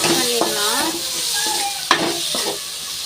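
Chopped tomatoes with turmeric powder stirred in a hot frying pan for egg vermicelli, a steady sizzle broken by a few sharp spoon scrapes, with faint tonal sounds in the background.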